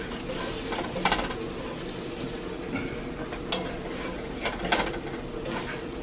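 A spatula stirs flour in a hot, sizzling pan, giving a steady close frying hiss with a few scraping strokes and light clinks against the pan, no talking.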